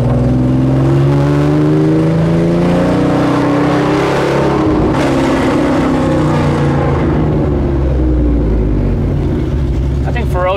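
A 1976 Porsche 911S outlaw build with a loud, unsilenced engine revs hard up close, its deep harmonic roar rising and falling steadily throughout with little break.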